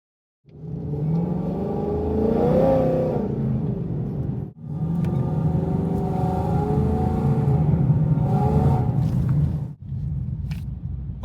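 A car engine revs and rumbles through its exhaust, rising and falling in pitch over two long sustained runs with a brief break between them.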